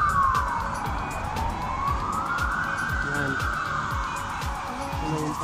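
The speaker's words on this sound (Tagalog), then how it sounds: "Ambulansya." A wailing ambulance siren sweeps up and down continuously on a street in Kraków's Old Town, loud and steady over passing traffic rumble, with a voice speaking briefly.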